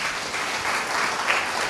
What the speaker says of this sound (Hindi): यहां ताली बजनी चाहिए थी।